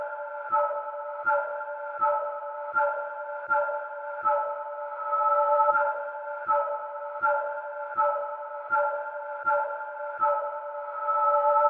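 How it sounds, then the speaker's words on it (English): A synth bass preset from an Analog Lab bank plays a steady series of short, evenly spaced notes, each with a sharp attack and a brief tonal ring, clean and alone. "the next sound is using this bass preset in my analog lab bank"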